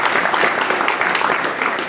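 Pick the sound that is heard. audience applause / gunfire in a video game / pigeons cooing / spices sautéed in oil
audience applause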